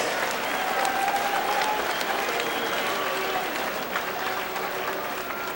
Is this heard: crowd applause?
yes